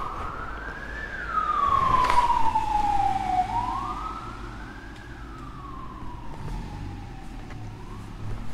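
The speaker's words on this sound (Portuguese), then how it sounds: "Olha a ambulância." An ambulance siren wails up and down in slow sweeps, loud and passing nearby over street traffic rumble.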